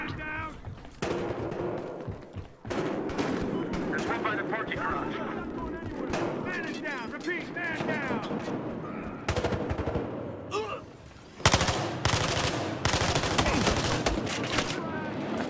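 Heavy gunfire in Battlefield Hardline: rapid automatic bursts and repeated loud shots rattling through a chaotic multiplayer firefight, with a sharp jump in volume near the end and voices mixed underneath.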